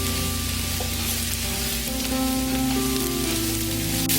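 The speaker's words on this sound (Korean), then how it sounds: "불은 중강불로 올려서 잘 볶아주세요." Button mushrooms with green onion and garlic sizzle and crackle steadily in a pan over medium-high heat, a dense continuous frying hiss with faint stirring, close up, with music in the background.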